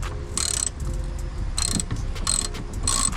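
A ratchet undoes a bolt on a 2018 Dodge Charger, giving four short bursts of close, clicking ratcheting with brief pauses between them over faint background noise.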